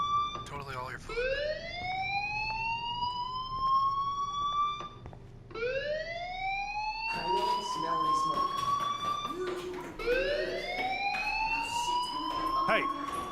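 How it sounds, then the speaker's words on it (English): Fire alarm in the video game Life Is Strange, a loud rising siren wail repeated about three times, each swell climbing in pitch over several seconds, with talking over it. "do you hear that fire alarm? That means you should be outside."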